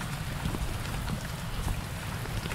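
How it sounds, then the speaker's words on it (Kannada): Steady rain falling over a hill area near Sakleshpur, a dense continuous patter with low rumble, moderately loud and unbroken, with no voices. "ಮೋಸ್ಟ್ಲಿ ಇದೊಂದೇ ಜಾಗದಲ್ಲಿ ಮಾತ್ರ ಮಳೆ ಹೊಡಿತಾ ಇದೆ"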